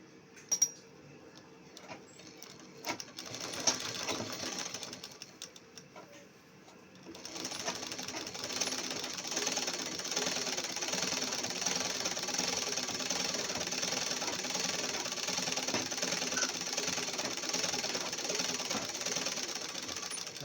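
A sewing machine stitches churidar pants, starting with a few short bursts and then after a pause settling into a steady, continuous rattling hum that runs close and fairly loud to the end.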